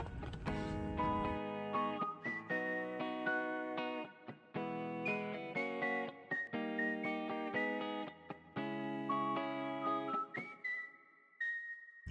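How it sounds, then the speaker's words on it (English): Melodic whistling in a K-pop song, a clear bright tune over layered synth and beat, sliding between held notes and ending on a long sustained whistle. "I like the whistling."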